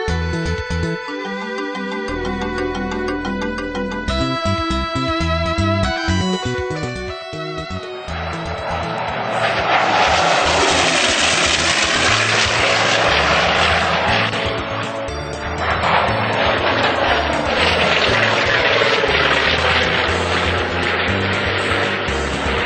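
A Corsair propeller warplane at a New Hampshire air show, its piston engine droning loudly overhead and swelling into a rough, sustained roar that rises and falls as it passes.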